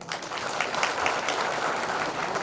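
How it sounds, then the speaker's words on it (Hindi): An audience at a state-level tribal conference claps together in a sustained burst, the many hands forming a dense, even patter that carries on for a couple of seconds without speech. "लेकिन एक बात के लिए यहाँ तालियां बजाओ"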